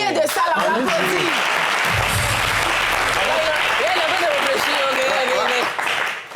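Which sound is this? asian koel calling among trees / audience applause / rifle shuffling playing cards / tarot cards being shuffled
audience applause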